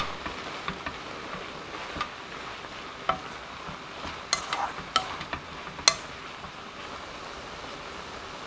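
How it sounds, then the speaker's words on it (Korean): Aged kimchi with scallion and chili being stirred in a pan, a soft low sizzle with scattered clicks and scrapes of the utensil, heaviest in the middle stretch, quiet and close, no voices present. "물이 반 정도 남으면 파, 고추 넣고 섞어주세요."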